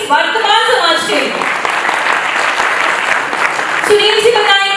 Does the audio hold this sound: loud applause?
yes